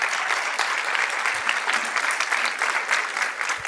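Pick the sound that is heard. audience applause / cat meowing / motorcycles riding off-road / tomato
audience applause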